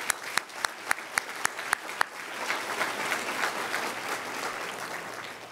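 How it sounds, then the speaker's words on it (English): Applause for graduates at a university graduate luncheon: a few sharp isolated claps ring out first, then the room fills with sustained crowd clapping that stays even and moderately loud. "how about a round of applause for all of our graduates here?"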